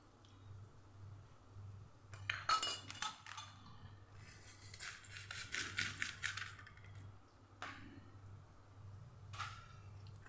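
A utensil stirs tomato sauce and vegetables in a pan, making soft clinks and scraping taps in irregular bursts, close but faint, over a low steady hum.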